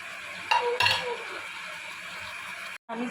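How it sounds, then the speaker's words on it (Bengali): Chopped tomatoes drop into a pan of crushed ginger and garlic for a chicken karahi and are stirred, giving a couple of clattering bursts over a soft sizzle, then a brief gap and a return of the frying hiss. "এবার টমেটোগুলো দিয়ে দেবো।"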